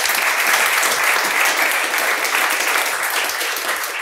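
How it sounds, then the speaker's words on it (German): Audience applause for guests at a live podcast recording on banking regulation, dense steady clapping from a crowd that stays loud and even for several seconds with no voices. "wir machen einen großen Applaus für meine Gäste"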